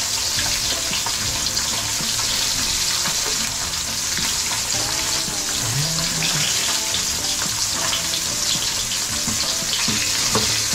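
Food fries in a pan with a dense, unbroken sizzle that holds at a steady loud level, with faint clinks and watery splutter mixed in.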